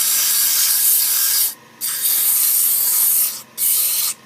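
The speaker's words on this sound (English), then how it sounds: "I'm going to do some rough sanding on it now" Steady, hissing abrasive rubbing of sandpaper against a wine bottle stopper spinning on a wood lathe, broken by two brief pauses, close and fairly loud with no talking.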